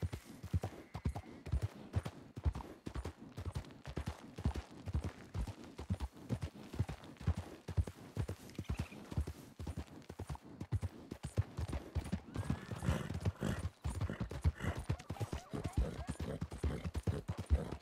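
Video game horse hooves clop in a steady rhythmic walk throughout, fairly close, with a brief whinny partway through.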